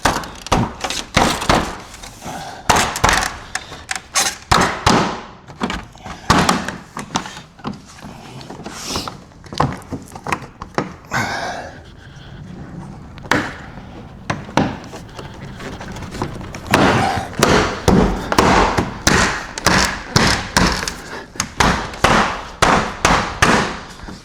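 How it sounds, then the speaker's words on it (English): Plastic retaining clips snap into the grille of a Ford F-150 Tremor pickup, a long run of sharp, close clicks and thuds in irregular bursts, some quick and clustered, with a brief quieter stretch in between and no talking. "start popping these clips back in"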